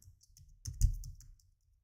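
A few soft keystrokes tap out a password on a computer keyboard, quiet close clicks clustered in a short burst before falling silent.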